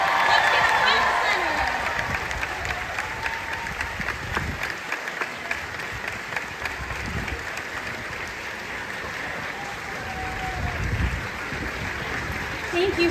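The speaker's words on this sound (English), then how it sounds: "Keep that applause going." A large theme-park show crowd at Disney's Hollywood Studios applauds and cheers continuously during a 35th anniversary celebration, a dense roar of clapping with occasional shouts, while an amplified host talks over it.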